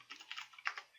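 Quiet, close typing on a computer keyboard, a quick run of soft key clicks at an uneven pace.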